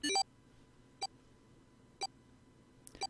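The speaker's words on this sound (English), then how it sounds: "His bracelet gave a cold electronic beep." An electronic bracelet in the Zero Escape 999 video game chirps a quick multi-tone jingle, then gives three short, faint, evenly spaced beeps about a second apart, clean and isolated with no speech.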